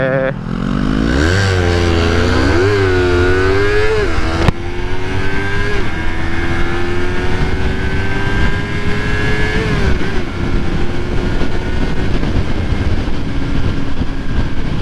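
A Yamaha MT-25 motorcycle engine under way during a short drag against an R25, loud and close, revving up in climbing sweeps and shifting through gears before settling into a steady high drone over wind noise.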